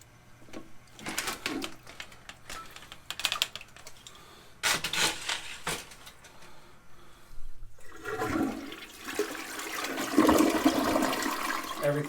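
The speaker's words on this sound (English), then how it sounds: "Everything seems like it's flushing good there." A household toilet flushing after an object was removed with an auger, with clicks and handling noises first, then a loud rushing swirl of water that fills the last several seconds at close range.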